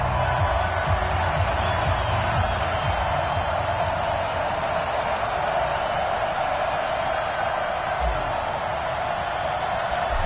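Steady stadium crowd roar from an EA Sports NFL video game, Indianapolis Colts versus Cleveland Browns, a dense continuous wash of noise holding level for about ten seconds with no clear cheers standing out.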